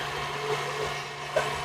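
An electric whisk whirs steadily through cream cheese, butter and sugar, a continuous motor hum with faint scraping, close and moderately loud.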